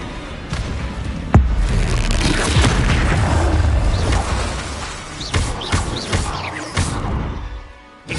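Confringo explosive spell in a Harry Potter video game: booming impacts and thuds amid busy combat effects, with a sharp hit early on and several quick bursts later, loud and close.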